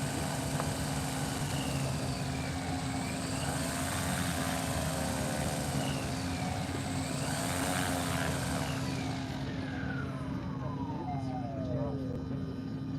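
A giant-scale C-47 model aircraft runs its engines up for a check, a steady loud propeller drone with rising and falling pitch sweeps, continuous throughout.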